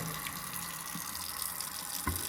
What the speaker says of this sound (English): Make sure the garbage disposal is always free. You can go and click it on.